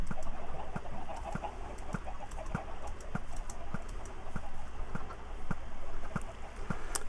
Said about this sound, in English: And we already have chickens.